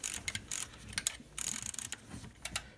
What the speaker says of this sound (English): Now I'm gonna remove the nut from the bottom here.